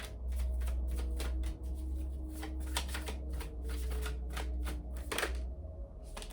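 A deck of cards riffled and shuffled repeatedly, with close, crisp rapid flutters in steady bursts over a low background hum.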